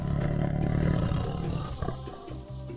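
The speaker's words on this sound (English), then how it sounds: "Tigers can roar loudly, and you can hear them from very far away." A tiger lets out a loud, close, rumbling roar that gradually fades, followed by a short growling tail and a sharp noise right at the end.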